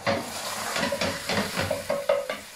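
Onion is added to a pan for Hungarian goulash, with a close, steady sizzle and rhythmic stirring scrapes repeating roughly twice a second.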